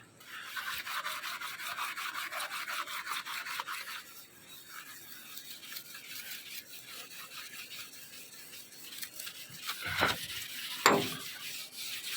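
Steady rough scrubbing of a truck body with a scrubber, riverside at the Kabani River, continuous and fairly close, with a couple of sharper knocks near the end.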